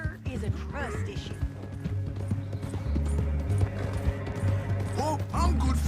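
Horse hooves clip-clop steadily at a walking pace in Red Dead Redemption 2, close and continuous beneath low game ambience and a few scattered knocks.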